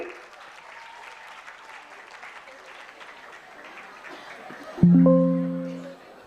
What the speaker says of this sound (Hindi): एक बार धीरज सर के लिए जोरदार ताली हो जाए